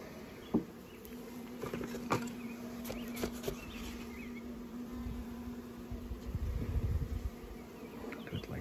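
Honey bees buzz steadily around a small nuc colony being moved into a ten-frame deep hive box, a close, continuous drone with occasional light knocks and handling noises and no talking.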